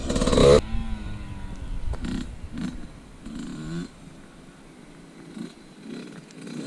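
A Yamaha YZ65 dirt bike engine revs in short bursts, a loud rasp opening the moment before settling into a lower, uneven idle-like drone with intermittent blips of throttle.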